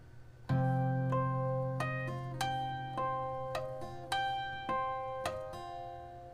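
Fingerstyle acoustic guitar plays the opening four measures of a theme slowly, with a low bass note ringing under a clear, evenly spaced melody of plucked notes, each attack ringing out and decaying, quiet and alone.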